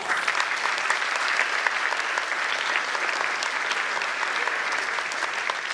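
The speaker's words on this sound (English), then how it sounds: "join me in giving these young people a round of applause" Steady, sustained applause from a large audience at a keynote address, even and continuous clapping filling the room without pause.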